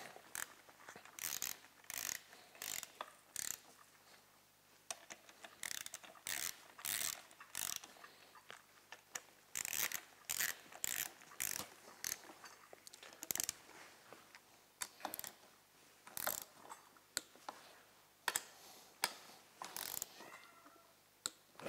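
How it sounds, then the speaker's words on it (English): Ratchet wrench clicking in quick repeated bursts while bolts are torqued down in sequence on a Polaris IQR 860cc big bore engine rebuild, close and fairly quiet, with short pauses between runs. "there is an order in which these have to be torqued down. I have to bring them all down flat."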